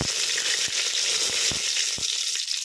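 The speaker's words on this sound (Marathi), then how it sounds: "जिरं आणि मोहरी तडतडली की टाकूया कढीपत्ता" Cumin and mustard seeds crackle and pop in hot oil against a steady broadband sizzle, with a few sharp pops spaced irregularly, close up and fairly loud.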